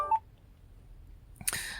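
A phone gives off a short electronic beep, and after a quiet pause a second burst of bright tones sounds, fairly faint and with no voices.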